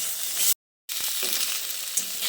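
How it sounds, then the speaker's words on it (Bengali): Tomato and slit green chillies stirred with potatoes in a frying pan give a steady, close sizzle with soft stirring scrapes. The sound drops out into near silence for about a third of a second, then resumes. "টমেটো কাঁচা লঙ্কাটা দিয়ে আলুর সঙ্গে আরও কিছুক্ষণ নেড়ে চেড়ে নিচ্ছি"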